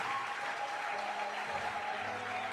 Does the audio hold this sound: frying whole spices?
no